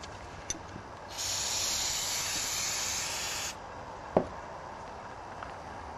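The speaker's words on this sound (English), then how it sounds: "I used up the whole can of carburetor cleaner." Aerosol can of carburetor cleaner spraying onto a bearing with its cover removed, one steady hissing burst of about two and a half seconds, close and loud, followed by a short sharp knock.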